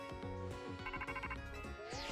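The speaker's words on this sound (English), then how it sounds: "my phone is ringing" A phone ringing in Pokémon Legends Z-A, a quick melodic electronic ringtone with repeated short tonal notes, brief and fairly faint against a steady game background.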